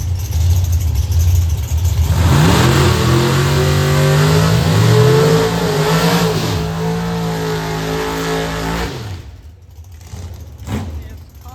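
Two outlaw drag racing cars, a Studebaker and a construction car, launch at Beech Bend Raceway, a loud rising engine roar climbing through the gears for several seconds before fading away, with talk over the noise.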